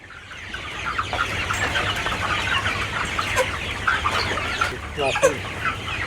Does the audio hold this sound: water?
no